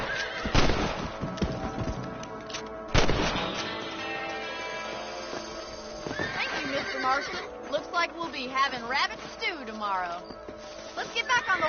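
A horse whinnies loudly twice in the game Red Dead Redemption, followed by snorts and hoof clip-clops, with a voice talking over the later part.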